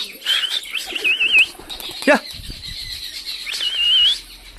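Jungle babblers chatter and call in quick, squeaky bursts, with a brief flurry of wingbeats midway, close by.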